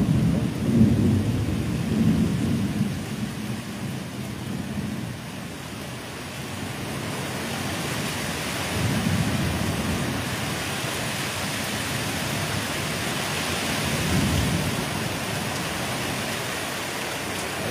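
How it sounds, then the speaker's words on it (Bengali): A heavy storm over the Sundarbans brings steady rain and wind, with deep thunder rolling in several long, loud swells; no speech is heard. "মেঘের ডাক খুব জোর।"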